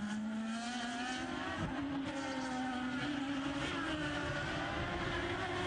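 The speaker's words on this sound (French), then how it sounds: "Attention le freinage de Kanaan." An IndyCar race car at the St Petersburg street race brakes hard into a corner. The engine drones steadily and its pitch drops slowly, with the sound of other cars behind it, loud and continuous.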